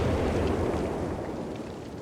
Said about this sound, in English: rocket shotgun deployed somewhat against the Falchion Jaegers